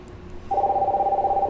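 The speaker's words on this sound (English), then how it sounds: "Oh, we got a phone call." A telephone rings once with a steady, warbling electronic tone lasting about a second as an incoming call reaches a radio show, clear and alone with no voices.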